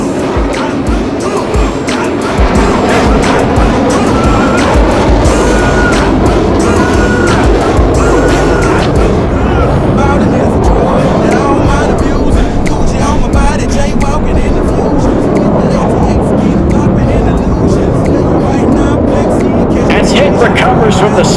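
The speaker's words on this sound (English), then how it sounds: "let's watch as Hicks shoves it into Afterburner" A Boeing F/A-18 Super Hornet roars in afterburner at an airshow demonstration, a loud, continuous, rumbling jet blast that fills the whole stretch without letup.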